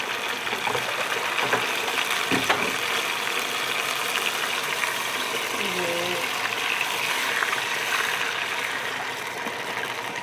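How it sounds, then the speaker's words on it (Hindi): Water gushes steadily into a cooking pot for rice being made alongside black masoor dal, a continuous pouring rush with a brief tonal hum in the middle and no talk over it. "पानी डाल देंगे।"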